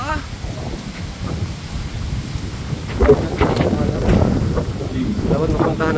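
Storm weather during a typhoon, with steady rain and gusting wind buffeting the microphone and low rumbling thunder swelling midway, water and boats nearby; indistinct voices talk faintly under the noise.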